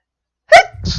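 A single sharp, close sneeze bursts out abruptly after silence, followed by a brief breathy exhale and rustle.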